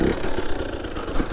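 A moped engine drones at close range, a steady buzzing motor sound with slight pulsing rises in revs over a short stretch.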